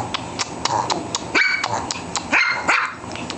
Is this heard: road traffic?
no